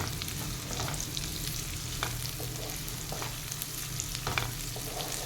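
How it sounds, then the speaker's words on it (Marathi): Vegetables with chopped green chilli sauté in oil for butterfly pea flower fried rice, a steady close sizzle with occasional stirring scrapes running throughout, no talking. "हे अजून आपण दोन तीन मिनटं छान परतून घेऊयात"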